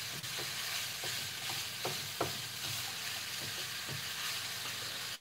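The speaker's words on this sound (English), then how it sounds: "all we need to do is just brown the sausages off" Pork sausages brown in a frying pan with a steady close sizzle and the occasional scrape or tap of stirring, no voices heard.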